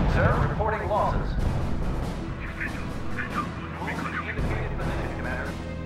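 In a R.U.S.E. strategy battle, dense gunfire and rumbling artillery roll on continuously at moderate loudness, with a voice talking over the fighting.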